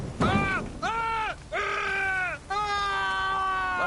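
A man screams in The Witcher 3: Hearts of Stone, giving three long, strained wails with brief breaks between them, loud and near with nothing else over them.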